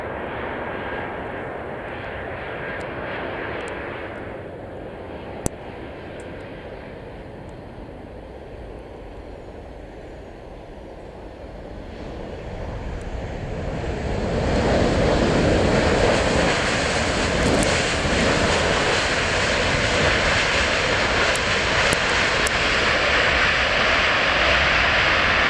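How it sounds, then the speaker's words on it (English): A Ryanair jet airliner comes in to land at London Stansted airport, its engine roar building from a distant rumble to a loud, sustained broadband wash that holds steady through the second half. "No, it's just a Ryanair coming in."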